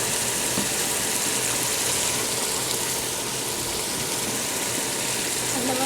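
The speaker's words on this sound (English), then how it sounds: "Did you wash the rice?" Steady broadband rush of running water fills the whole stretch, a continuous near wash like rice being rinsed under a tap for Peruvian cooking, with no clear voice on top.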